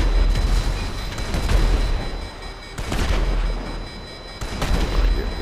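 A tank cannon in GTA V fires repeatedly, booming blasts about every second or two with rumbling tails, loud and close, and no talk.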